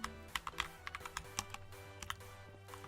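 Rapid, uneven clicking of keys on a computer keyboard, close and fairly quiet, with short bursts and brief pauses between strokes and no talking.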